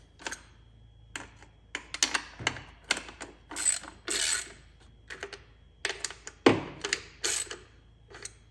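A hand ratchet snugs the bolts on a valve cover fitted with new aftermarket gaskets, making short bursts of quick clicking with gaps between turns, close and crisp, and no talking.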